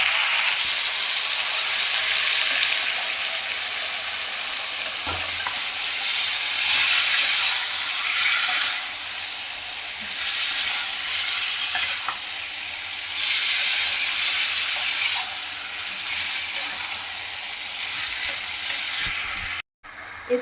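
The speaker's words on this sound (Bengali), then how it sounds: "এবার আমি ম্যারিনেট করা মাংসটা দিয়ে দেবো।" Marinated chicken fries in a hot pan, giving a steady loud sizzle and hiss with occasional stirring scrapes. It runs continuously and close for about twenty seconds, with no talking.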